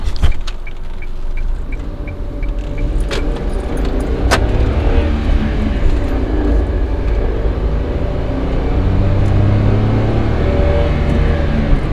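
A 2012 Kia Picanto 1.0 CVVT 69 hp accelerating from 0 to 100 on partial throttle: loud, steady engine drone with road rumble building, some light clicks and jingles early on.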